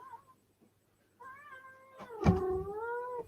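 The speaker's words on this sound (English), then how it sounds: "No, you can't meow, she's right." A cat meows in a home kitchen during scone baking, giving a few drawn-out, wavering meows close by after a quiet pause, with one louder bump in the middle and no one speaking.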